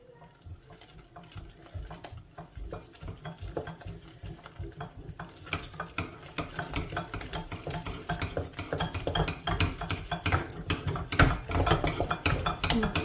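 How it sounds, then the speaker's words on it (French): Flour being stirred into melted butter in a pot over medium heat, a steady scraping and stirring with soft sizzling that grows louder and busier over the last several seconds, with no voices. "Donc là, on va mélanger pendant quelques minutes."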